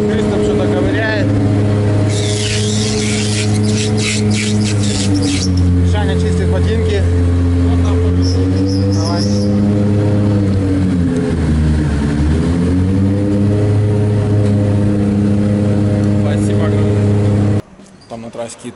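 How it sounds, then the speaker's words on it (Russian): A race car engine runs steadily to warm up the transmission during a competition day, a loud, close, droning hum with slight pitch shifts that stops abruptly near the end, with voices talking over it. "Мишаня греет трансмиссию."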